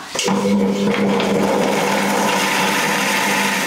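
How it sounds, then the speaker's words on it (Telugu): Kitchen mixer grinder running steadily on mint and green chillies, a loud continuous whirring motor drone starting abruptly and holding for a few seconds, with no talk. "ఫస్ట్ ఇది మిక్సీ పడదాం."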